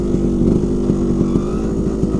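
A Vespa 50 Special scooter ridden in second gear, its small two-stroke engine buzzing close and steady with a rapid pulsing throb and slight rev changes.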